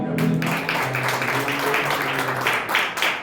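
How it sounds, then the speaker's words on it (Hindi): A church congregation at Eternal Life Church, Bathinda, claps together in Jesus' name, a dense, steady wash of hands that runs the whole time with a sustained musical or vocal tone underneath. "यीशु के नाम में ताली बजा के"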